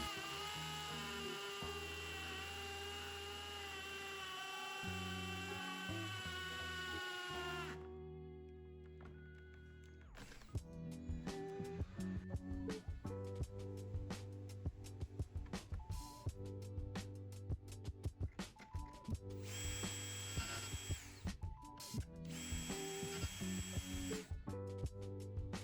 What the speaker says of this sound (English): Here I'm drilling the holes for the Euro style hinges that I'll be using on the doors.